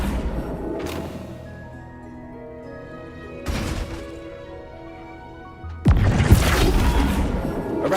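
Flipendo spell casts in Hogwarts Legacy, set among greenhouse ambience with a soft musical backdrop: a couple of sharp whooshing bursts around the middle, then a louder, sustained crackling impact blast near the end.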